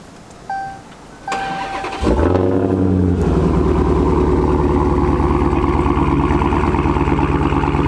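A Dodge Hellcat's engine cranks over with a brief starter whir after a few small clicks, then catches with a loud roar and settles into a deep, rumbling, steady idle close by.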